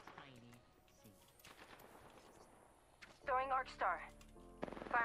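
Rapid bursts of gunfire and shots ring out in a video game amid in-game voices and player chatter, with the gunfire short and punchy between spoken callouts.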